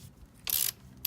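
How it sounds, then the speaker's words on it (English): 10mm socket wrench ratcheting on an engine gear oil drain plug beneath the brake lever, two short, close clicking bursts separated by a brief pause. "you just want to get your socket on there, crack it off"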